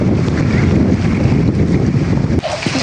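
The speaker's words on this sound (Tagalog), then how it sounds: "ngayon po ay sobrang hangin na" Strong wind at sea buffets hard and continuously, a loud low rumble with gusty texture that drops off abruptly near the end.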